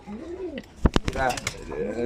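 Racing pigeons coo in a loft, low rolling calls rising and falling close by, broken by a few sharp clatters midway, while someone talks over them.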